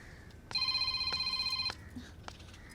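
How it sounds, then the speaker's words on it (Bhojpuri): A phone rings indoors with a single bright electronic ringtone burst lasting about a second, clear and moderately close above quiet room tone. "फोन बाजता, केकर ह?"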